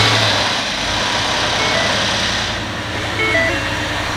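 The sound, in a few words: supercharged 2018 Ford F150 V8 engine starting and idling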